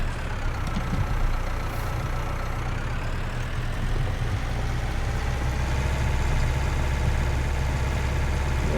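Tractor engine idling in Farming Simulator 19, a steady low rumble with a constant hum that holds at an even level for the whole stretch, heard alone without talk.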